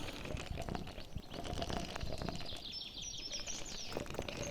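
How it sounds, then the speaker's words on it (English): Birds from the video game Bucket Crusher, a steady bed of flapping wings and soft cooing and chirping calls that plays continuously without a break. "Let's just stop the video and just listen to the birds."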